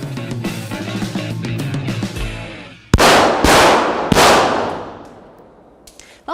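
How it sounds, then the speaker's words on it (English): Gunfire at an indoor shooting range: a few loud, sharp reports ring out at irregular intervals with echoing tails, following a stretch of dense clattering and background activity. "when you walk in, you should expect people to be shooting"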